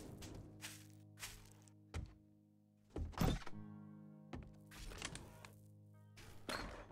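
Zombies batter a structure in the survival game 7 Days to Die: a series of heavy thunks and cracking blows land at irregular intervals, several loud impacts standing out over a steady low game hum.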